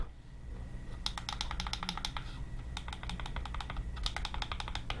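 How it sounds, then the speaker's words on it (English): Buttons on Mpow H5 Bluetooth headphones clicked repeatedly in quick bursts of sharp, close, fairly soft clicks, with short pauses between runs. "The buttons are mildly clicky, not as clicky as I would like."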